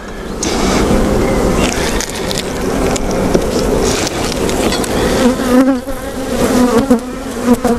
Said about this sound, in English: there are lots and lots of bees there, lots of brood